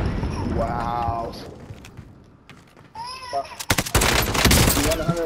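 Gunfire in a Call of Duty match: bursts of rapid shots crackle loudly near the end, with players talking over the action.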